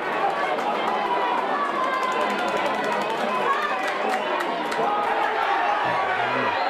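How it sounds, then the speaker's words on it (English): A large crowd at a Gaelic football county final between Ballybay and Clontibret sends up a continuous wash of shouting and chatter from the stands, steady and fairly loud throughout, with a few sharper calls rising near the end. "The crowd are shouting because there's a bit of argy-bargy at the other end of the field"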